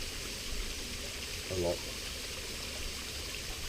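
Steady broadband rush of a river flowing right beside a wild camp pitch near a waterfall, constant and close, with a brief voice speaking over it.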